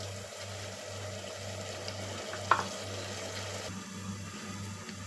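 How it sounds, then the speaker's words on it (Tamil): Onions frying with a half spoon of salt in a pan, a steady low sizzle with soft stirring scrapes and one brief clink midway, quiet and continuous with no voices. "இப்போ நல்லா வெங்காயம் வதங்கி வந்திருக்கு பாருங்கள்"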